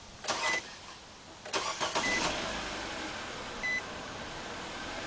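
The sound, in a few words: 2013 Nissan Sentra 1.8 engine starting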